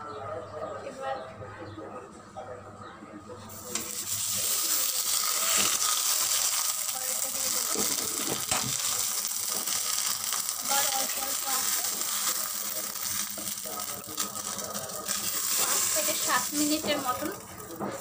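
Prawns frying on a banana leaf, a steady sizzle that starts after a quieter opening and continues with a voice talking over it.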